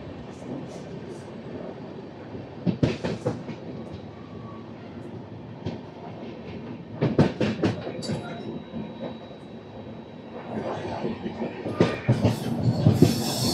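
Train running through Chittoor railway station without stopping, a steady near rumble of cars with rhythmic wheel clatter over rail joints that thickens toward the end, with faint high squeals.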